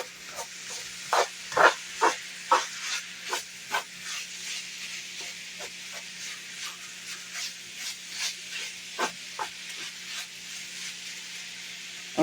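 Sausage milk gravy sizzles and bubbles in a large skillet, with a steady frying hiss broken by repeated scraping strokes of a spoon stirring the pan, close and moderately loud, with no talking.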